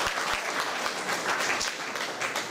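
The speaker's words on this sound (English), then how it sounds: "Give her a round of applause." An audience at a Comhaltas traditional Irish music concert in Milltown, Rathconrath, applauds in a steady, fairly soft and distant patter of many hands that continues evenly throughout.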